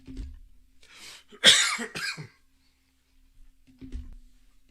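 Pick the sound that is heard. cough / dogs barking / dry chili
cough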